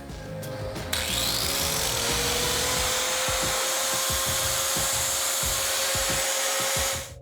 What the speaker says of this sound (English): Finish that off with the grinder, get it back to the face frame